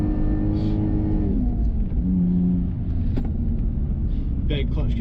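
A Lexus IS200 engine drifts on track, its loud droning roar holding near the rev limit before dropping and climbing again, with tire noise and a voice talking over it.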